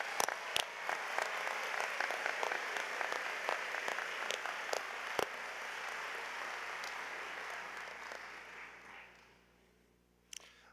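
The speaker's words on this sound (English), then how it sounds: "that deserves a round of applause from us all" An audience at a college of optometry graduation ceremony applauds in a dense, sustained wash of clapping, heard from a distance in a large hall, which fades out near the end before a single sharp knock.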